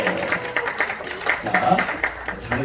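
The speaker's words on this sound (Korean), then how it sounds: "먼저 부루마블 선물은 바로 우리 동우. 박수" Children in a church elementary Sunday school clapping for a classmate receiving a prize, a modest patter of hand claps under a scattering of voices, fairly faint.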